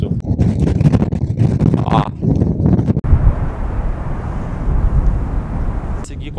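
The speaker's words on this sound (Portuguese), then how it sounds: "não tá nevando, mas tá ventando como sempre" Strong wind gusts roar across a black sand beach in Iceland, a steady broadband rush buffeting the microphone, with a person speaking over it at first before the wind continues alone.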